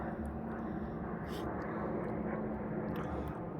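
An airplane drones overhead in a steady, broad rumble that holds throughout, heard outdoors during mushroom foraging in the woods, with faint bird chirps above it.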